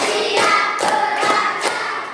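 Classroom children clap their hands in a counted routine, four distinct clap bursts spaced roughly evenly, fairly loud and close, with no talking over them.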